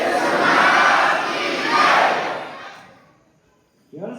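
A large crowd at a spiritual discourse shouts a jaikara victory chant in two loud surging waves, then falls quiet before a voice begins.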